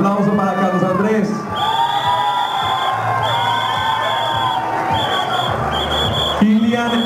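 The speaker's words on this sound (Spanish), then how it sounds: "Un aplauso para Carlos Andrés." Crowd at a Halloween costume contest at Fonda La Floresta cheering and applauding a contestant, lively shouts and whoops over clapping, with music and steady tones running beneath the noise.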